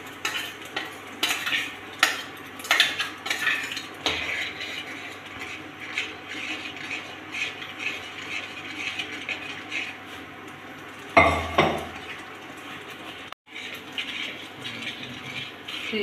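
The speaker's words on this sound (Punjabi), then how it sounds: "ਫਿਰ ਪਾਵਾਂਗੇ ਆਪਾਂ ਚਟਣੀ ਅਤੇ ਇਹਨੂੰ ਪਕਾਵਾਂਗੇ ਹੁਣ ਆਪਾਂ ਪੂਰਾ ਘਿਓ ਛੱਡਣ ਤੱਕ" Garlic chutney cooks in ghee in a pan with a soft sizzle under repeated clinks and scrapes of a spoon stirring against the metal, close and fairly quiet.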